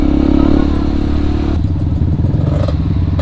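Motorcycle on a beach in Jogja, rolling down a slope with a loud close rumble, then a rough clattering, bumpy rattle as it moves over uneven ground.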